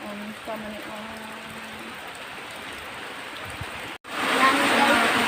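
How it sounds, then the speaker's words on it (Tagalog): Heavy rain during a storm, a steady close wash of downpour that swells louder near the end, with people talking faintly beneath it. "kusog ang ulan oh"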